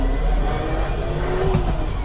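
A McCormick X4.70V tractor engine revving up, a short steady diesel drone that rises slightly as it accelerates, close by and alone.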